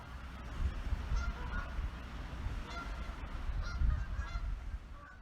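Geese honk repeatedly at a distance, scattered nasal calls over a low outdoor rumble.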